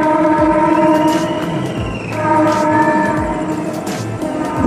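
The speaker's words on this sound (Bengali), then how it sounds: "রেলগাড়ি যাচ্ছে।" A train runs along a railway line beside a rural fish pond: a loud, close, continuous rumble with sustained tonal whines rising and falling as it passes.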